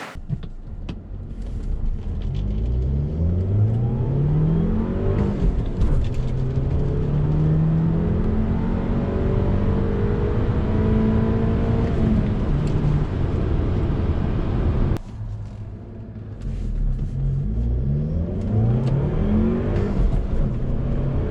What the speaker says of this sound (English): here is a 0 to 60, or yeah, 0 to 60 acceleration before and after my 87 octane tune